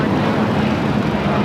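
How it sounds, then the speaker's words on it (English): An Airbus A321neo jet taking off at LAX gives a steady, close broadband engine roar that holds without a break. "1711 taking off to Guadalajara on an A321neo."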